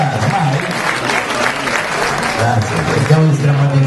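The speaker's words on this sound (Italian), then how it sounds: "Allora, fate un applauso, no?" An audience applauds at a public debate for the 2012 municipal elections in Sant'Elpidio a Mare, Italy; the clapping runs steadily throughout, mixed with someone talking over it.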